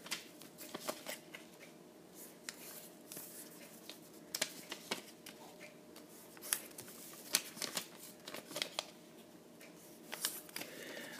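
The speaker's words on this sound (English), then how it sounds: "do what's called a blintz base by folding the four corners to the center of our square" A square of paper is folded into an origami blintz base, with soft crisp creasing and rustling, faint and close, scattered sharp crackles as corners are pressed to the center, no speech.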